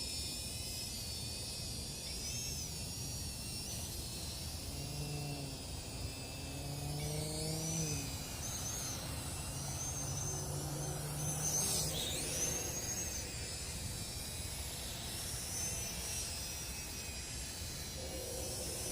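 Snaptain SP660 drone flying in the dark: a steady, continuous motor whine and airy buzz hold at an even level throughout, with slight rises and falls in pitch as it manoeuvres.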